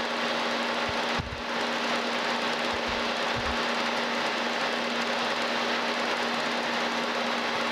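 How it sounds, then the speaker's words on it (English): A center drill bores into a new valve stem for a steam locomotive stoker engine on a lathe, the machine running as a steady, even hum with a constant tone and a brief low knock near the start. "Got a center drill. We're just going to put a center in here."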